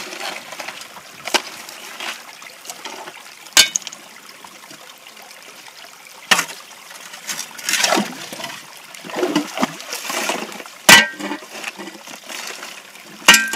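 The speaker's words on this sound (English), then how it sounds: "that little bit of extra water helps to wash the fines through" Creek water splashes and trickles through a small sluice set on shallow bedrock during hand sluicing, with irregular gushes, splashes and a few sharp knocks over a steady flowing wash.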